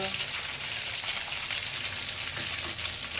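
Lemon gota fritters, Surat-style gram-flour bites with garlic, sizzle steadily in hot oil, a dense, even crackle that holds at the same level throughout with no voices.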